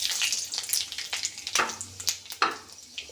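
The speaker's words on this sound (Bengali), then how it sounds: "এরপর এতে আমরা দিয়ে দেব তেজপাতা, দিয়ে দেব দুটো শুকনো লঙ্কা, দিয়ে দেব পাঁচফোড়ন" Bay leaf, two dried red chillies and panch phoron hit hot oil for a lau dal, giving a close, steady sizzle with crackling bursts and small stirring clatters.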